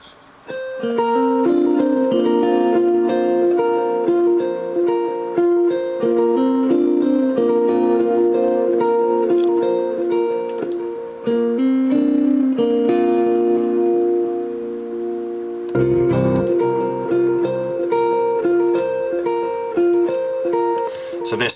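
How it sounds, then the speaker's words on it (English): Two electric lead guitar lines from a rock song recording, layered together, with sustained distorted and reverb-washed melodic notes ringing loudly and steadily over the whole stretch, with a brief dip in the middle. "the 2 leads on their own sound like this combined."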